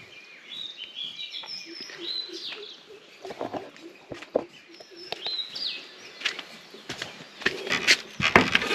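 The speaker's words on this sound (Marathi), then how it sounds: "चिमण्यांचा चिवचिवाट वगैरे आहे" Small birds, sparrows among them, chirp and twitter in a village courtyard on a rural Konkan morning, many quick overlapping calls scattered through the scene at moderate distance, with occasional louder nearby calls and some rustling.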